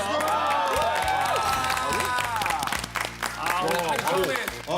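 A studio audience on a Korean variety show claps and cheers for a singer's song, lively applause with whoops layered over music and voices throughout the short burst.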